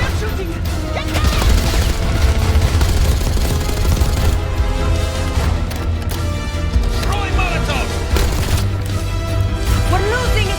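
Dense gunfire and explosions fill a Call of Duty Black Ops 6 battle, with loud continuous bursts and booms layered under shouted voices throughout.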